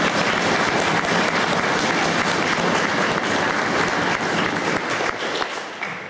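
Sustained, loud applause from an audience at a tournament awards ceremony, dense steady clapping that holds for several seconds and thins slightly toward the end.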